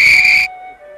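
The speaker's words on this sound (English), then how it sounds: "The guard blew his whistle." A train guard's single sharp, shrill whistle blast rings out loudly for about half a second, then cuts off, leaving a faint lingering tone.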